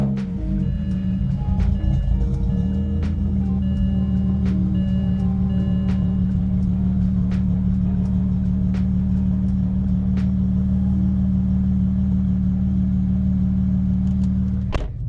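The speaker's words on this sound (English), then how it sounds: "I'll turn on the car so you guys can hear what it sounds like." A modified 550 hp BMW 335i engine with a resonator exhaust idles steadily with a deep, droning exhaust hum, constant and close, with no speech.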